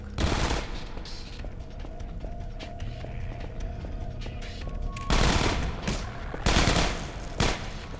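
Automatic turret fire in the Half-Life 2 Episode One game: sustained rapid machine-gun bursts with loud peaks near the end, and no talk over it.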